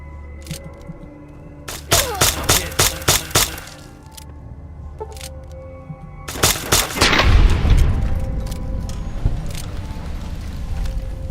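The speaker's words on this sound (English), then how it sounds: "these needle guns are really deadly" Needle gun fire in Fallout: New Vegas on hardcore mode: two rapid bursts of sharp, close shots, the first a quick run of about six cracks, the second a denser volley trailing into booming impacts and clatter.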